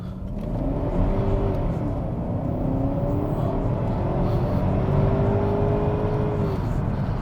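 BMW E60 550i Touring V8 engine while driving, a steady low rumble with gentle rising and falling engine tones, continuous and fairly loud throughout with no talking.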